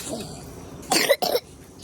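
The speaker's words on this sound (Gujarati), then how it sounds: "અટાણ વધારે ઉધરસ આવી" Two short, harsh coughs close by, one right after the other, over a quiet background.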